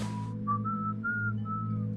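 Someone whistles a short, plain tune of a few sustained notes, close and clear over a steady low hum, with a brief noisy burst just before it starts.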